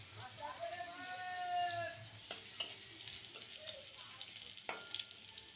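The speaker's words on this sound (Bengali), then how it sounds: "আর এর ভিতরে দিয়ে দিচ্ছি তেজপাতা, রসুন আর পেঁয়াজ দিয়ে সুন্দর করে আমি করতেছি কি, ভেজে নিচ্ছি।" Onion, garlic and bay leaf fry in a little oil in a pan, making a soft, steady sizzle with occasional stirring clinks and scrapes, while a voice talks faintly at the start.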